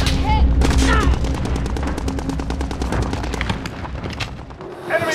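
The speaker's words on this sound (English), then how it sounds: "Precision airstrike, take cover!" Heavy gunfire and explosion bursts from a Call of Duty Modern Warfare ground war battle in Verdansk, rapid repeated cracks and booms filling the whole stretch, loud and dense, with brief voice fragments at the edges.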